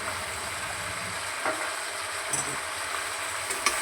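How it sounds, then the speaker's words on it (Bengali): White sesame seeds stirred into a pan of frying food, with a steady close sizzle running throughout and a few light scrapes of a utensil against the pan. "সাদা তিল ছড়িয়ে একটু এদিক করে মিশিয়ে দিচ্ছি।"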